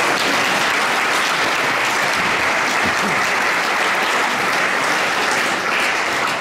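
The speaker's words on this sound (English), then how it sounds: "Let's give them another massive round of applause." Sustained, dense applause from a church audience for a brass band after a performance at St Michael & All Angels Church, steady and full throughout with no break.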